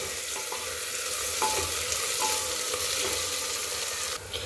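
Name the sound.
onions frying while stirred until golden brown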